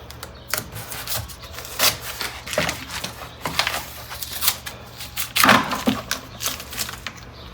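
Taillight bolts are being removed from a 2007 Lexus, bringing close-up clicks, ratcheting taps and scraping handling noises in irregular bursts, with no voices over them.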